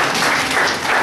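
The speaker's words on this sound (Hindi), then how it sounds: "कोई है मध्य प्रदेश से आज? बहुत अच्छा, इनके लिए तालियां बजाएंगे हम।" Seminar audience applause, a dense, steady wash of many hands clapping together for a guest from Madhya Pradesh, filling the whole short moment without talk.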